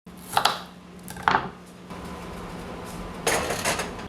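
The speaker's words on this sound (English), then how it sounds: "So I peeled and chopped my potatoes kind of small" Potatoes being peeled and chopped in a kitchen: a few sharp knife strikes and scraping bursts, separated by quieter gaps, close and fairly distinct.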